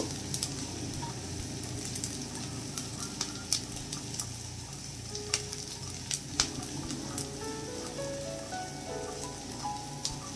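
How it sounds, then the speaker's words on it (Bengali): Poha being stirred with black mustard seeds in a hot pan: a steady close sizzle of frying runs throughout, broken by scattered sharp scrapes and clicks of the stirring spoon, with no voices. "তো আমি আবারও সমস্ত উপকরণ একবার ভালো করে আমি নাড়িয়ে চাড়িয়ে নেব।"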